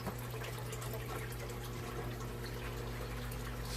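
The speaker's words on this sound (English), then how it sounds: "Okay, well I should shut this water off. I don't want to overfill it." Water from a hose pours steadily into an aquaponics fish tank as it fills, a constant near rushing hiss with no pauses and no voices.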